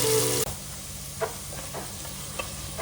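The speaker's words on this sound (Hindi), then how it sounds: "प्याज डालकर थोड़ा लाल होने तक भून लीजिए।" Onions frying in a pan for dal makhani, a soft steady sizzle with a few faint stirring clicks, preceded by a brief louder burst at the start.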